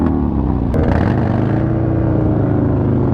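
A Harley motorcycle rides past at an abandoned airport, its loud, deep engine rumble holding steady up close before slowly easing off.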